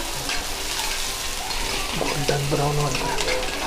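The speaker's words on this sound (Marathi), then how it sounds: "गोल्डन ब्राउन होईपर्यंत त्यांना छानपैकी शेकून घ्या।" Chopped onion fries in oil for a village-style soybean bhaji, stirred in the pan to golden brown, a loud close sizzle with scraping stir strokes running throughout.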